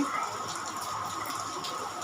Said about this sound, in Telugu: మా కడపలో వర్షం చూడండి ఎలా పడుతుందో. చాలా ఎక్కువగా పడుతుంది